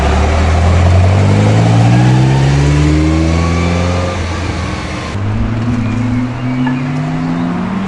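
In Maranello, Italy, a car engine revs hard and climbs in pitch as it speeds past, drops briefly, then surges again, loud and close.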